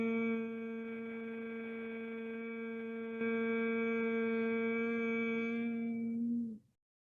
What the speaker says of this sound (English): here we do the sound hum, and here we keep the thumbs up mudra